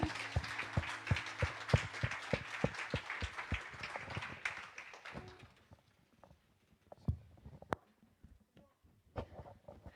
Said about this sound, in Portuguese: Podemos dar uma salva de palmas ao nosso Deus.